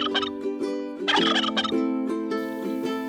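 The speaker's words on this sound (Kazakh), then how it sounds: "Күркетауық күркілдейді." A domestic turkey gobbles in a loud, rapid, warbling burst, then repeats it with shorter rattling gobbles, heard close and alone.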